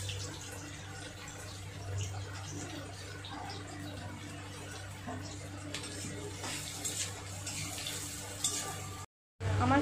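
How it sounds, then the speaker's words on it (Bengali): Onions fry in the oil left from frying fish for a Bengali shahi katla dish, a steady sizzle and hiss running for several seconds with occasional stirring clatter, faint talk underneath, then a brief drop to silence. "এবার ওই মাছের তেলেই আমি পেঁয়াজগুলো"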